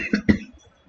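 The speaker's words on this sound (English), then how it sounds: "I have allergy coughs. I can't help it." Two short, sharp allergy coughs in quick succession from a person nearby, followed by quiet.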